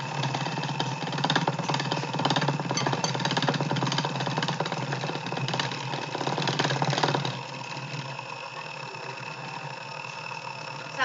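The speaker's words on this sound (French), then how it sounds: "J'aime beaucoup mon batteur électrique." An electric hand mixer whirs steadily as it beats crêpe batter in a bowl, loud and close with a dense buzzing drone that drops to a lower, quieter hum partway through.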